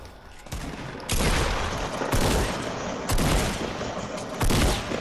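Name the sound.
gunfire in Fortnite video game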